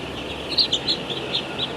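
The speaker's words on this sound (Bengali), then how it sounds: "এই যে এগুলো হচ্ছে মোরগের বাচ্চা" Three- to four-day-old chicks in a heated poultry shed holding about thirteen thousand birds; several short, high peeps repeat over a steady background hum, close and clear.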